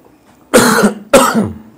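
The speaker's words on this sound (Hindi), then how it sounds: "खांसी आ रही है।" Two sharp, loud coughs close by, a short pause between them, each a rough burst that trails off.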